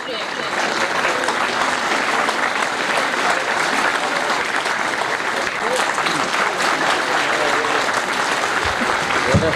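An audience applauds steadily for a student speaker at a Paras Science College speech event in Kandiaro, with dense, continuous clapping filling the hall at an even volume throughout.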